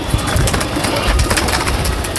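Pigeons coo and take flight, a dense, loud cluster of bird calls and fluttering wings heard up close for a couple of seconds.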